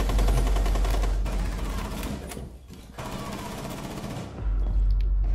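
Rapid automatic gunfire rattles loud and close in a Rainbow Six match, in sustained bursts with a brief lull in the middle, dense and harsh throughout.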